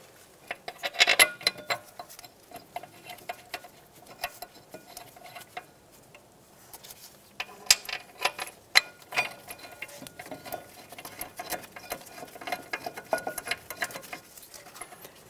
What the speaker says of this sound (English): Now we can start in both of our mounting bolts.